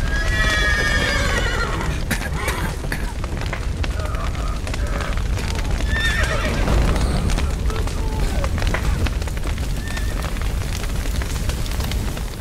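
Horses neigh and whinny repeatedly over a thick rumbling din in The Witcher 3, with hoofbeats clattering throughout and loud crashes and booms in a chaotic scene.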